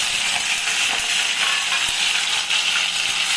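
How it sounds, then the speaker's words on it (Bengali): Potatoes fry in hot oil for a Bengali goat liver stir-fry, giving a steady, close, broadband sizzle that holds evenly throughout with no talking. "আলুটা ভাজি"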